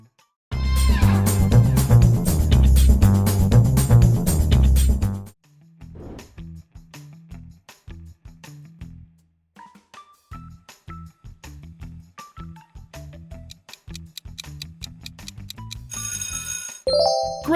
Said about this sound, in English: It's from Subway Surfers.